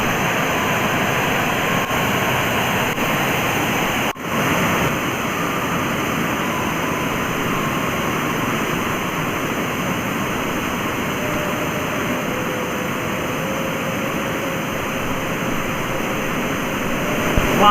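Heavy water roaring steadily over a waterfall at a flooded dam near Virar, Mumbai, a dense continuous rushing wash that holds constant throughout, with one sharp brief knock partway through.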